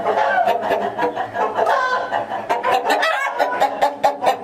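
Aseel rooster, a Thai cross breed, clucks repeatedly in a poultry shed, with bursts of other fowl calls layered over a busy barnyard background and faint talk.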